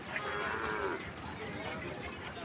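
Sahiwal and local cattle at a busy livestock market, one moo rising near the start over a dense crowd din, with faint talk in the background.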